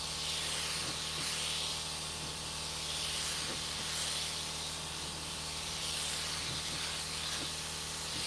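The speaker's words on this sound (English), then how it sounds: "I'm going to shoot gold over the whole thing. I like the way that's spraying." A spray gun lays gold candy paint over chrome metalflake in a steady, loud hiss of atomized spray that swells and eases in slow passes, with a faint mechanical hum beneath and no talking.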